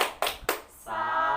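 A group performs a rhythmic tepuk salut clap during a health and nutrition training session, three quick, sharp claps in a row followed by a sustained voiced chant.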